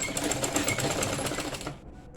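A sewing machine stitches a wig closure shut, a fast, loud, rattling run of needle strokes for under two seconds before it stops.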